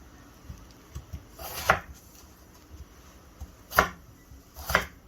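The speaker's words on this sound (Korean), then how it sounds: "너무 얇게 쓸면은 이게 풀어지니까 부서지고 풀어지니까 조금 도톰하게 쓸어줍니다" A knife slicing potatoes into thick pieces on a cutting board for potato seaweed soup: three crisp, distinct chops spaced a second or two apart, close and clear over soft kitchen background noise, with no talking.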